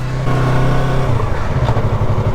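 A motorcycle engine revs loudly up close, a throaty pulsing rumble that rises and falls over a couple of seconds.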